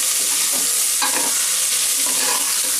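Mint leaves and green chillies frying in a pan over a village cooking fire, a loud continuous sizzle with brief scraping stirs near the start and in the middle.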